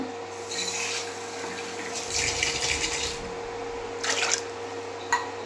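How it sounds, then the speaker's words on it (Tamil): Water is poured from a tumbler into a cooking pot while sambar is being made, giving uneven splashing bursts, sloshes and a few drips close by, with no talk. "நான் வந்து மூணு டம்ளர் தண்ணி ஊற்றுறேங்க"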